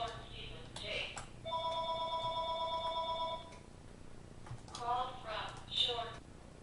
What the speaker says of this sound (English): Just had to answer the phone there.